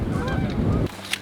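Geese honk loudly and repeatedly overhead during an early-season goose hunt, a dense clamor of calls that cuts off abruptly, leaving a quieter field with a few faint sounds.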